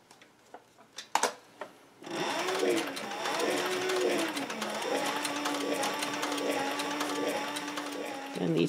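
A sewing machine stitches leather pieces for a shoulder holster, running as a steady, close mechanical whir with rhythmic stitching after a few light clicks and taps at the start.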